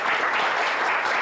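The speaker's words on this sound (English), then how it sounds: "Warm applause." Warm applause from a conference audience fills the room, a dense, steady wash of many hands clapping at close range throughout, with no talking over it.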